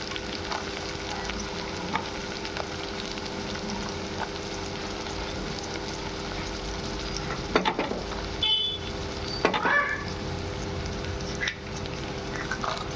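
Carrot pieces fry with chopped onions in a pan, a steady close sizzle running throughout, broken by a couple of louder scraping stirs near the middle.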